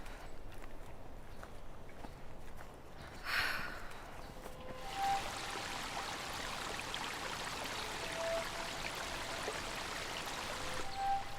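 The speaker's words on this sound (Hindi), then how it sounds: "हमने अभी अभी काफी लंबी पानी की धारा पार की है।" Water flowing in a forest stream, a steady rushing hiss that swells after a few seconds and keeps going, with faint footstep-like sounds and a few brief tones over it.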